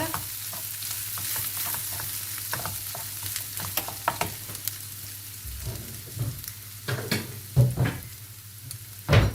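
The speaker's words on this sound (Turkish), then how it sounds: "Hemen karıştırıyorum, altını kapatıyorum baharatını koyduktan sonra" Spiced savory filling being stirred in a hot pan, a steady sizzle of frying under repeated scraping spoon strokes, with a few louder knocks toward the end; no talking.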